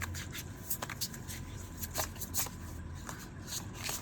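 Tarot cards shuffled by hand in quick, repeated riffling bursts close up, a soft papery flutter recurring steadily over a low background hum, with no voice.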